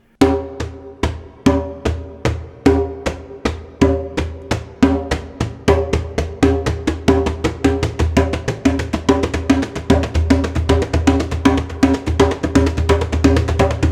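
Djembe strokes played in a steady pulse, with every third hit struck harder near the drum's edge for a ringing tone, the pace quickening over about fourteen seconds, close and clear with no talking.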